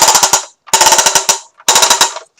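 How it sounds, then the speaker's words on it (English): A toy gun's electronic rat-a-tat burst plays three times, each a rapid run of loud, tinny, synthetic shots separated by brief pauses. "it's a toy machine gun that I got at Party City"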